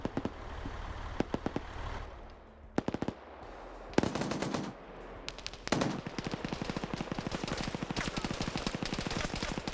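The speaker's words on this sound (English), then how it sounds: "You got people mounting the 50 cals in here." Mounted .50 caliber machine gun fire in a PvP shooter game: loud rapid bursts, some short and clipped, then a long sustained stream of rattling shots.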